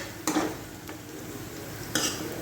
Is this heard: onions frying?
yes